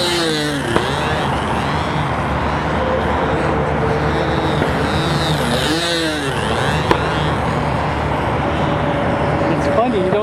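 Control line model airplane engine flying at Whittier Narrows, California, a continuous buzzing drone that rises and falls in pitch as the plane circles, with people talking in the foreground.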